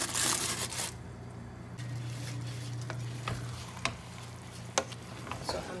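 A spoon stirs jollof rice in a pot, scraping and turning it over a steady frying sizzle, with a few sharper knocks against the pot; no one talks.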